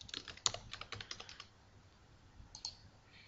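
Quick, faint key clicks come from a computer keyboard as a username and password are typed, with a short flurry of taps followed by a pause and a couple of final presses.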